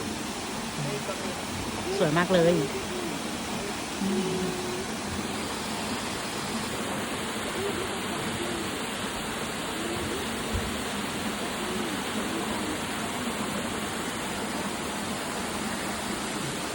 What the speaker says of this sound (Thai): น้ำตกมิโนะครับ